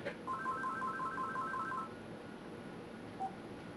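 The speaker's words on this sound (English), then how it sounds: "let me mute my telephone" A telephone rings with a rapid warbling electronic ringtone for about two seconds and then gives one short beep, fairly faint against a quiet room hiss.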